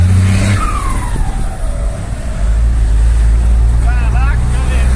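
A Ford F-250 pickup with a turbo cruises on the road. Its deep engine rumble swells as it pulls, with whistling turbo spool and people talking over it.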